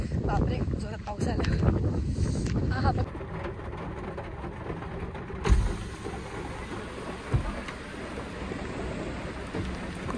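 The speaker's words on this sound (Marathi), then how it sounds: "बापरे केवढा पाऊस येतोय" Heavy rain pounds on a car near Saputara, a dense roar with low wind rumble and a few sharp thumps, while someone speaks briefly over it early on.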